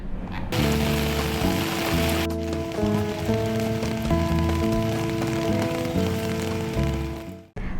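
Heavy rain pours down steadily in the Indian city of Korba, a dense, constant hiss with a low, steady tonal hum underneath and no voices.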